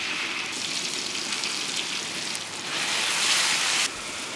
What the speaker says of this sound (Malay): Kita boleh masukkan bahan-bahan yang kisar tadi dalam minyak.